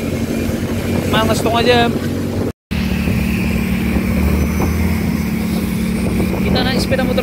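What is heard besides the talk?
riding a 2013 Yamaha Mio motorcycle uphill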